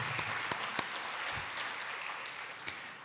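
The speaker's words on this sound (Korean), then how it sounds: "우리 하나님께 영광의 박수 올려드리겠습니다." Applause from a church congregation at the opening worship service of a peace prayer gathering at a Korean church, a steady wash of many hands clapping with a few louder distinct claps, moderately distant and even throughout.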